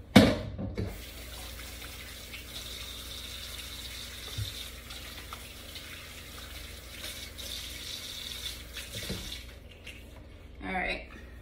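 A kitchen tap runs steadily while hands are washed at the sink, a soft continuous water rush with occasional splashes and clatter, and a voice briefly speaks over it.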